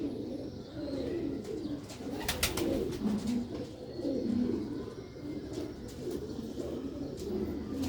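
A flock of Sialkoti breed pigeons keeps up a rolling, throaty cooing for several seconds, overlapping calls rising and falling nearby, with a few faint chirps and no talking.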